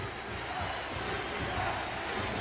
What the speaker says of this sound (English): A UCF chant goes up.